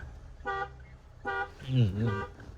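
A car key fob button is pressed and the car answers with two short electronic beeps spaced under a second apart, followed by a person talking.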